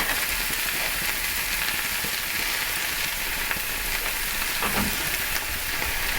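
Salmon fillet frying in a seasoned cast iron skillet, a steady close sizzle and crackle that holds evenly throughout with no talking.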